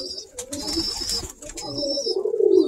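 Pigeons coo in a loft, a low murmuring burble rising and swelling toward the end, with a thin high whistle and faint rustling above it; no voices.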